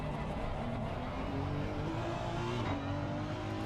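Onboard engine note of a GT race car in Assetto Corsa Competizione at Circuit of the Americas, a steady loud drone with shifting harmonics as the car holds speed, with no talk over it.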